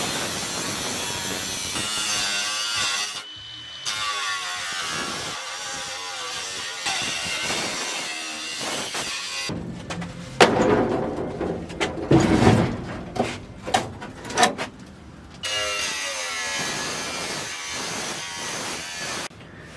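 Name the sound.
cutting out 1959 Impala floor pan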